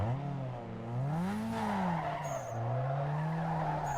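A car spinning out in Need for Speed Underground 2, its tires squealing in long wavering skids over a droning engine, loud and close, with a short high tone near the end and no talking.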